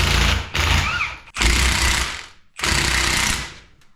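An impact wrench hammering at 14mm 12-point cylinder head bolts, three loud close bursts of rapid rattling separated by short pauses.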